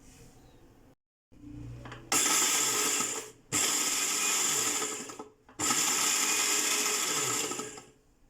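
A kitchen blender whirs loudly in three bursts as it beats a coffee mixture with ice cubes, each run steady and high-pitched, separated by brief stops.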